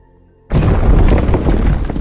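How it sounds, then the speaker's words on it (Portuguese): A sudden loud boom erupts into a sustained roaring, crackling rumble, a sound effect depicting the Chernobyl nuclear reactor explosion, close and heavy after a brief quiet lead-in. "A tampa de 1000 toneladas que ficava sobre o reator é arremessada para cima por causa da explosão."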